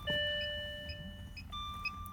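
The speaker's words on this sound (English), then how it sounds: "actually I'm hearing the beeps" Inside a Jaguar XJ12 that won't start, steady electronic warning tones sound with periodic chime-like beeps repeating about every half second, clear and fairly close.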